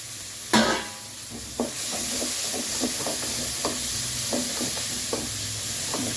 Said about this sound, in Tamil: இந்த ஸ்டேஜில் நம்ம இந்த சுண்டைக்காய் எடுத்து போட்டுக்கலாம்.